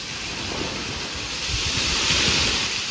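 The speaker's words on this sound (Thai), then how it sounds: "ว้าวเสียงคลื่นด้วย" Steady wash of ocean waves rolling onto shore, a broad hiss of surf with faint wind, continuous and moderately loud.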